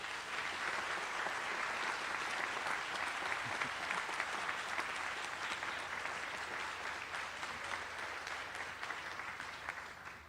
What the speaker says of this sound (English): You can thank them now by giving them a round of applause.